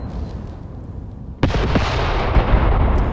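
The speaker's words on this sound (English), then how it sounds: "Mortar barrage is landing and suppressing the machine gunners." Mortar barrage landing in Graviteam Tactics, a WWII tactical video game: after a quiet rumbling stretch, a sharp loud blast hits, followed by sustained dense crackling and booming impacts that keep rolling on.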